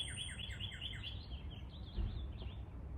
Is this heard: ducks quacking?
no